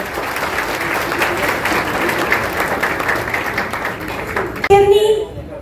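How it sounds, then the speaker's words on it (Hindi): A gathering of women and students at a rainy-day event bursts into sustained applause, a dense wash of clapping that ends abruptly as a loud voice takes over on a microphone. "उनके लिए भी एक बार तालियों से अपने आप का स्वागत कीजिए"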